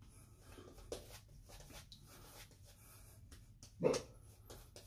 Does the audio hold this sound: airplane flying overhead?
no